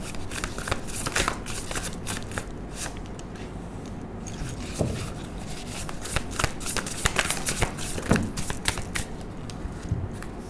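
Tarot cards are shuffled by hand at close range, with repeated crisp riffles and flicks in quick uneven bursts over a soft papery rustle.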